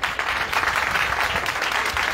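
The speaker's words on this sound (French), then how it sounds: "applaudir cette personne" An audience applauds a person at a foundation's fourth-anniversary celebration, dense, steady clapping filling the whole stretch at moderate distance with no speech over it.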